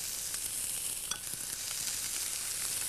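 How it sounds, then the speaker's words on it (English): Red onions and bell peppers sizzle steadily in hot olive oil in a pan, a dense, even crackle with scattered sharper pops, close and continuous throughout with no voices. "we're going to add a few onions, our red onions, the pepper,"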